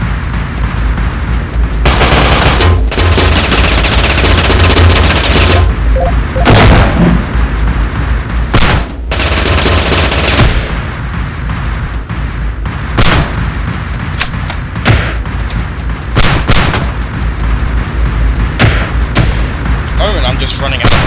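Gunfire from the video game Teleglitch, loud dense bursts of shots and booming blasts in rapid irregular clusters with brief gaps, close and harsh throughout.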